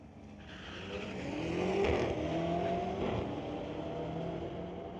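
A street-legal drag racing car roars down the strip at Mission Raceway Park and crosses the finish line, its engine note rising to a loud peak near the middle and then fading, with a broad continuous rumble throughout.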